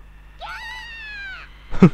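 A wildcat yowls in the Super Famicom game Wonder Project J, one long rising and falling cry, followed by a few sharp louder game effects at the end.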